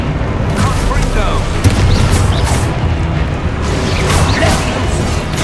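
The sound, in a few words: Confringo fire spell explosion in Hogwarts Legacy video game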